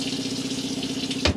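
Pressurised hot water streams steadily from a tap in a Swift Kon Tiki 596 motorhome with a constant hissing rush and a low hum beneath, ending with a brief splash or knock.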